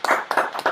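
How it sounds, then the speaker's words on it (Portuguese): Audience applause at a live poetry evening, a few distinct hand claps in quick succession, close and clear. "E tome aplausos aqui do pessoal."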